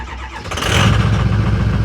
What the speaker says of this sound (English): Let's see what kind of a cold start we get on this one.